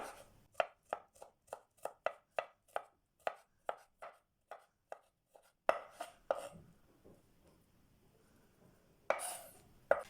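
Rapid knife chops of garlic on a cutting board, a steady run of sharp evenly spaced taps, then two heavier strikes and a pause before a final brisk burst of chopping.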